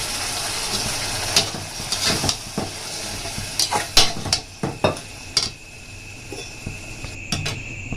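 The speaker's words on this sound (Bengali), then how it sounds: "মশলাটা থেকে তেল ছেড়ে দিয়েছি এবার ছোলার ডালটা দিয়ে দেবো" Chana dal stirred in hot spiced oil in a pan, a steady sizzle under clinks and scrapes of a metal spoon against the pot, close and continuous with no talk.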